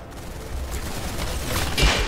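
Gunfire in the Roblox shooter Arsenal, a dense crackle of shots with a louder burst near the end, heard close over steady game noise.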